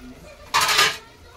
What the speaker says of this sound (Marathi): ह्यावर आपण आता झाकण ठेवू.